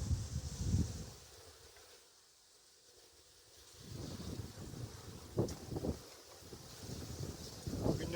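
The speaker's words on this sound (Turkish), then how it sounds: "Rüzgar var çünkü." Wind buffets the microphone outdoors beside a beehive in Erzurum, in gusty, rumbling bursts that drop away briefly in the middle before returning, loud and close.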